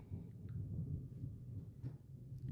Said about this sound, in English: You guys hear the thunder?